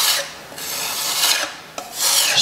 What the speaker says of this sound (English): small amounts, just scraping it over to fill in any gaps